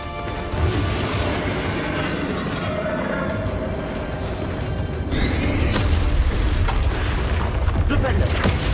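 A Bombarda explosion spell in Hogwarts Legacy erupts with heavy booms and crashing impacts amid a continuous roaring battle din, with a sharp blast near the middle and voices over the fight.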